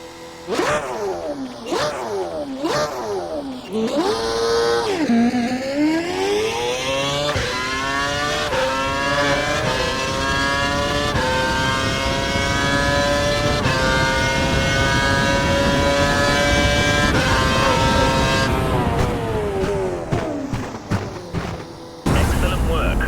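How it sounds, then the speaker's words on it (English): A Formula One car in F1 2012 revs through several quick gear shifts, then holds a loud, steadily rising engine whine as it accelerates hard down the straight, easing off near the end. "Head down the track accelerating past 160 miles per hour, then brake so that you come to a complete stop in the designated area."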